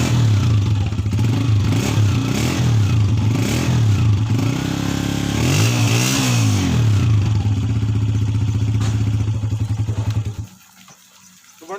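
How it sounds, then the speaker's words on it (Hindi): A Honda CG 125 single-cylinder motorcycle engine idles and revs in repeated rising and falling surges, loud and close, then cuts off abruptly near the end. "हर बाइक की अपनी सिग्नेचर साउंड है, CG 125 की अपनी सिग्नेचर साउंड है"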